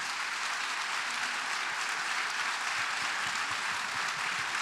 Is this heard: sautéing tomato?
no